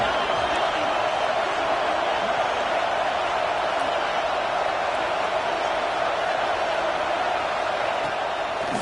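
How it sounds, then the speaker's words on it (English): A football stadium crowd at a USC game roars steadily and loudly, a dense, unbroken wall of cheering and noise heard throughout from within the stands. "This crowd bringing the energy and noise early."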